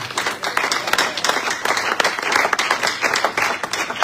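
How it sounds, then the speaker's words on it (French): A church congregation breaks into dense, lively applause, many hands clapping close and loud, with a few voices mixed into the crowd. "Nous honorons ta présence par des acclamations dans le nom de Jésus."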